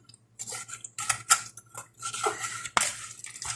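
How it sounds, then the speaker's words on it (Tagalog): Tenderized beef tapa in its marinade is mixed in a bowl with a utensil, making close, irregular bursts of metallic clinks and wet scraping against the bowl, with no talking. "So haluin lang natin ng mabuti."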